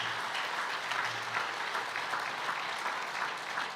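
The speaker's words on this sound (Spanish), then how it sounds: "Demos un aplauso al Cristo crucificado, pero que ahora es glorificado." A church congregation applauds during a Spanish-language sermon, a dense, even wash of many hands clapping at once that holds steady and unbroken throughout.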